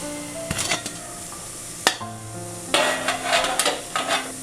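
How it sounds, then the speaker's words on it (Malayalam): A second metal idli plate is lowered into a steamer pot: sharp metallic clanks and knocks, followed by a rattling, hissing stretch near the microphone. "ഇനി ഇതിലേക്ക് മറ്റേ തട്ടും കൂടെ ഇറക്കി വെക്കാം"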